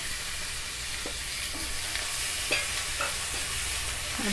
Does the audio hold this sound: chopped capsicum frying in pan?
yes